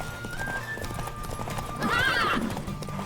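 A horse in The Witcher 3 neighs with a clear, rising whinny near the end, while hooves clip-clop steadily throughout over background game ambience.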